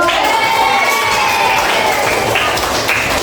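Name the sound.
children clapping and cheering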